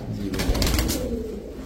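Soft, low cooing of a pair of Chila pigeons close by, a brief throaty burble with some background rustle.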